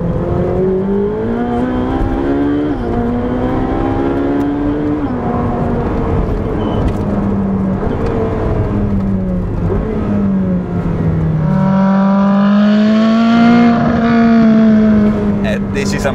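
Ferrari 458 Speciale's naturally aspirated V8 howls loudly as it revs high, pitch climbing through gears with brief dips at shifts, then surging again to a shrill peak near the end.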